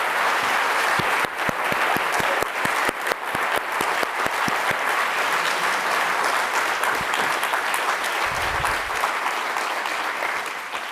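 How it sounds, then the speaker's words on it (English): Applause from an audience at an evening poetry and reading event fills the room with dense, steady clapping that carries on loudly without a break for about eleven seconds. "let's have a round of applause."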